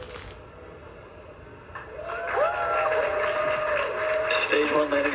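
Cheering from staff at Hawthorne after a SpaceX Falcon 9 first-stage landing, building from a low crowd murmur into a sustained, excited roar mixed with voices and radio-like tones.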